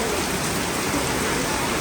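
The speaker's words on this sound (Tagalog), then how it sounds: "April 27, bumagsak yung napakalakas na ulan." Heavy rain pours steadily on an April night, a dense, continuous hiss that stays loud and unbroken throughout, with no voices.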